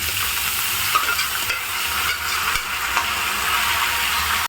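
Boiled banana stem is stir-fried with dried chillies and curry leaves in hot oil, a close, steady sizzle broken by soft scraping stirs.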